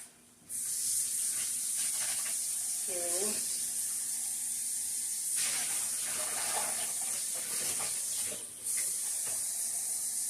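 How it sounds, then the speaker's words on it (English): Water is added to a hot pan of pesto parmesan shrimp Alfredo pasta sauce, setting off a loud, close, sustained sizzling hiss that runs almost the whole time, with a brief voice partway through. "So I'm going to add some more water."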